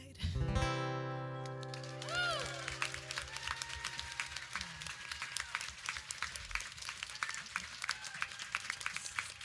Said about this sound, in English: can we have another round of applause for that?